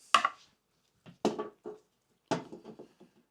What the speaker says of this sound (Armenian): Այսպես սիրուն, մոտ կտրատում ենք